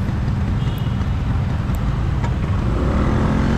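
A classic Vespa scooter rides at night through Kayutangan Heritage in Malang, its engine a loud, steady, close rumble with road noise throughout.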